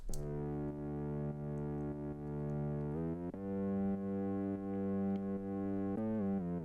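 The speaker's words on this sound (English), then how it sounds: "So the distorted one sounds like this." A thick, buzzing synth bass plays sustained low notes, changing pitch a few times, loud and alone with a gritty, saturated edge.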